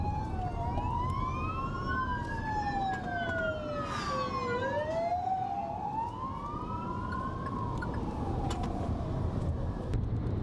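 Wailing fire truck and ambulance sirens rise and fall continuously over steady road rumble, several overlapping, emergency vehicles passing nearby during a tornado.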